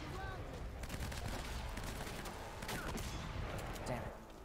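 Gunfire from the video game Uncharted: Drake's Fortune, a dense, steady spray of shots and bursts mixed with game sound effects, continuing for several seconds at moderate loudness.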